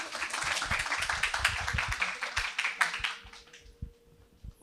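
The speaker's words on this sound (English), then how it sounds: "Applause, please applause." Audience applause at an innovation open-call event, dense and loud for about three seconds, then thinning to scattered claps before fading out.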